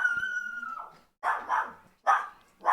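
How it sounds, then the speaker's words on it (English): A dog barks at a visitor, a drawn-out whining bark followed by three sharp, loud barks close to the microphone, with no one talking. "The dog's barking at our visitor."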